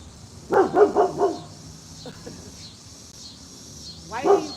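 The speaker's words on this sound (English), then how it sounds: "Why are you barking?" Dog barking indoors, a quick burst of four close barks followed after a pause by one more, over a quiet background with a faint high hum.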